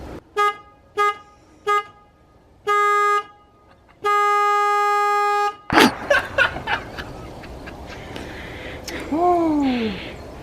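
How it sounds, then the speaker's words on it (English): A motorcycle horn wired to the rear brake switch honks in a series of short toots, then two longer sustained blasts, followed by engine rumble and faint outdoor noise. "it only honks the horn when the rear brake is pressed"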